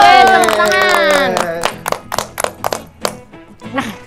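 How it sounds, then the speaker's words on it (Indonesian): Children clapping at a Sunday school service after singing, a short run of a few separate claps following a stretch of sung voices, with a voice faintly audible near the end. "Yeay, tepuk tangan."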